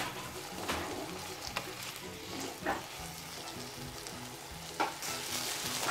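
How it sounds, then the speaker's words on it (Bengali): Vegetables fried and stirred without pause in a pan for an egg chilli dish, a continuous close sizzle punctuated by sharp scraping and clanking strokes of the spatula every second or two. "ননস্টপ এভাবে নাড়তে হবে।"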